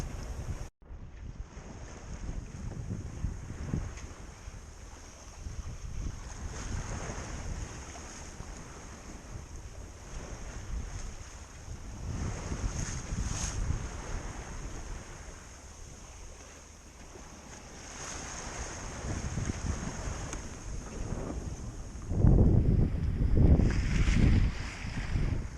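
A small sailboat runs downwind at sea under wind-vane self-steering, with gusting wind buffeting the microphone, water washing past the hull and rising surges of wave noise near the end.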